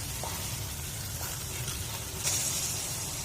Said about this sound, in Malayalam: ഈ സ്റ്റേജിൽ നട്ട്സും കിസ്മിസും ഇട്ട് കൊടുക്കാം.